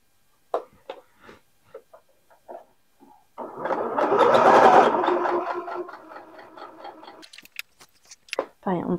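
A sewing machine stitches a knit fabric top in one continuous mechanical whir lasting a few seconds, framed by scattered clicks and handling noises, with a voice speaking nearby.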